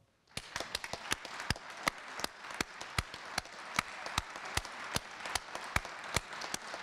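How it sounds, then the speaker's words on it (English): Scattered claps from a small audience at a leadership awards ceremony, sharp distinct hand slaps in a loose uneven rhythm lasting several seconds, fairly close with no voices. "One last round of applause."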